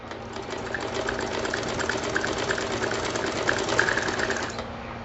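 A sewing machine runs continuously at a steady rapid rhythm, stitching along a strip of fabric with a fast mechanical whirr and clatter, close and alone without speech.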